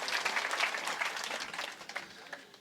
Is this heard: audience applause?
yes